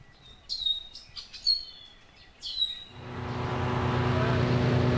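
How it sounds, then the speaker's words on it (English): Birds chirp and tweet in short bursts in a forest by the Colorado River for a few seconds before a loud broadband rumble, like a passing vehicle or aircraft, swells in and covers them. "listen to the happy birds who are back home here on the Colorado River"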